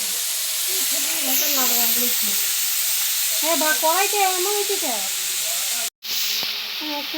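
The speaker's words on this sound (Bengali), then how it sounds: "পটল ভাজা" Pointed gourd (potol) frying in a pan gives a steady hissing sizzle throughout, with voices talking over it and a brief dropout near the end.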